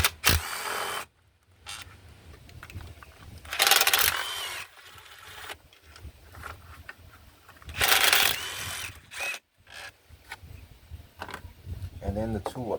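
A ratchet loosens nuts and bolts on the upper intake manifold of a 2006-2010 Hyundai Sonata 3.3L, giving bursts of close, rapid clicking between quieter stretches, with a person talking at times.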